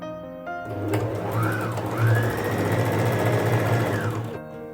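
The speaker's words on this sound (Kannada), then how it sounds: "ಈ ಪೀಸ್ನ ಉಲ್ಟಾ ಮಾಡಿಕೊಂಡು ಹೀಗೆ ಒಂದು ಸ್ಟಿಚ್ಚನ್ನು ಹಾಕ್ತಾ ಇದ್ದೀನಿ ನಾನು" A sewing machine stitches old T-shirt fabric in one continuous, close mechanical whirr of rapid needle strokes lasting several seconds, starting and stopping cleanly with no voice.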